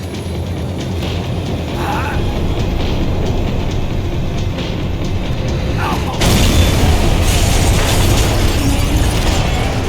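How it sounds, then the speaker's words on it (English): A tram rolling and slowing in the video game Max Payne 3, a loud, steady rumble of wheels and rattling carriage that swells a little in the final seconds, with no pauses. "The tram was slowing down"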